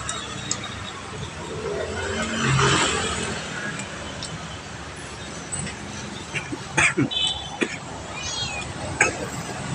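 A cat lets out a few short meows in a noisy indoor setting, mostly toward the end, mixed with background clatter and people talking.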